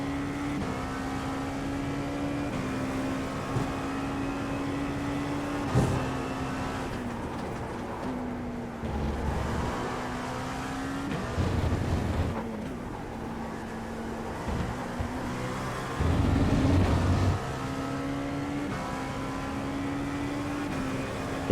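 A car engine in a racing simulator game drops through the gears: a steady droning tone that steps in pitch several times, with rougher bursts of revving, heard alone at moderate level.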